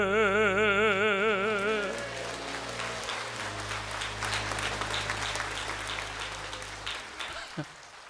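A church congregation claps together in steady, dense applause that rises after a loud held note of music fades, continuing for several seconds at moderate volume within a large indoor space.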